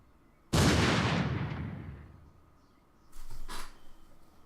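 A single loud gunshot in the video game Zero Time Dilemma bursts out and rings away over about two seconds, followed by a fainter, softer pair of sounds a moment later.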